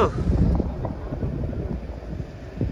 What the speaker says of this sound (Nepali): डेन्जरै हावा चलेछ यहाँ चाहिँ उडाउला जस्तो